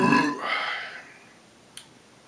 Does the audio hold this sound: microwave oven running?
no